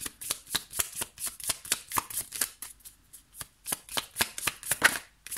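Oracle cards being shuffled by hand, a rapid rhythmic riffle of soft papery slaps repeating steadily for several seconds, close and quiet, with no talking.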